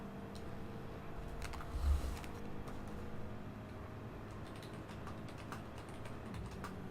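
Typing on a computer keyboard to send a chat message: a quiet, steady run of light clicking keystrokes over a low background hum, with no talk.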